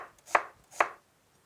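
Two crisp knife strokes cut thin slices of meat on a cutting board, each a sharp chop about half a second apart, close and clear with no talking.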